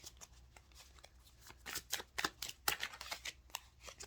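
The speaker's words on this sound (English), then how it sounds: "Shuffle one more time." Tarot cards being shuffled by hand, a quiet run of rapid papery riffles and flicks that grows busier toward the middle, close by with no talking.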